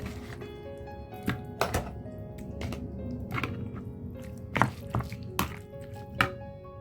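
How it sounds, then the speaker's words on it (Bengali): Chicken pieces worked by hand into a yogurt and spice marinade make quiet, soft wet squishes and dull thunks at irregular intervals over a faint steady hum. "এখন যে চিকেনগুলো আমি নিয়েছি সেটা মিশিয়ে নিচ্ছি"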